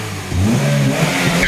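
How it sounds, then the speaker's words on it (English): The engine of a cheap $300 car revs up hard for a shop burnout, rising quickly into a loud, close growl that lasts about a second, with no voices. "All right, let's see what she got for a shop burnout."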